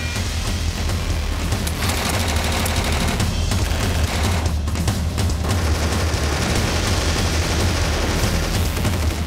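Gunfire crackles in dense, continuous bursts mixed with heavy booms during an SAS raid on an Italian villa in wartime, loud and sustained with no talk.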